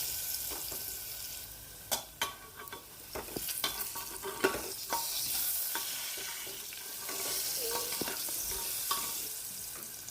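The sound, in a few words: potatoes frying and being stirred in hot oil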